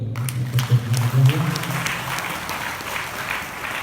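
Audience applause at an Islamic tafsir study session, a broad wash of clapping that rises and then holds steady for several seconds, with a low hum from a voice or PA underneath.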